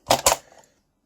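Scissors snip through a length of cotton thread, two quick sharp close clicks followed by a faint short tail, alone.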